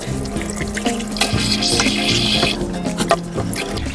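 Water running from the tap into a small sink in an Airstream trailer while boondocking, a steady rushing splash with some clattering as items move under the stream, alone and fairly close.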